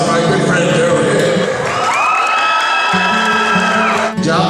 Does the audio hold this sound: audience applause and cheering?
yes